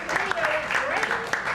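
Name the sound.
audience applause for the tech guy and projectionist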